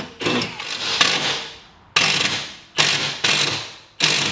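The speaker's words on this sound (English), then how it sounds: "Go ahead and drill this hole now." Drill bursts boring a hole through a skid plate on a CF Moto Z-Force 950: five separate loud whirring runs, each starting sharply and fading, with short pauses between them.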